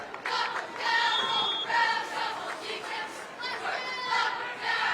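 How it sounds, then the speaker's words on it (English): A large crowd at a night high school football game at Arcanum High School, Ansonia vs Arcanum, fills the air with steady cheering and chatter, a broad continuous roar with rising swells throughout. "Good crowd on hand here at Arcanum High School tonight."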